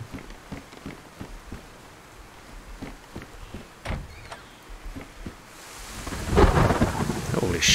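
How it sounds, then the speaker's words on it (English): A thunderstorm with rain in the survival video game DayZ: steady rainfall patters under scattered sharp cracks, then a loud rolling thunder surge builds near the end, with no voices. "what's wrong with the storm? This is not normal sound."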